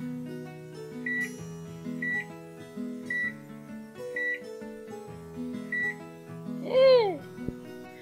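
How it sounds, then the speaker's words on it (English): A new kitchen timer being set while baking banana bread, a series of short electronic beeps spaced about a second apart over a steady background tone, with a brief voice near the end. "This is a new timer. Let's learn how to use it together."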